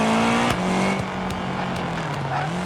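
A Lancia Delta Integrale rally car at full throttle on a stage, its engine droning loud and steady with shifting harmonic pitch and sharp pops and crackles between gear changes.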